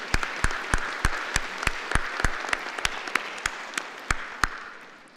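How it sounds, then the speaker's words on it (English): Audience applause at a Bow Valley College fall convocation ceremony: a steady patter of hands with several sharp, distinct claps standing out near the front, holding at an even level before tapering off slightly at the end. "That clapping was well earned for Mishik as he joined me at the podium."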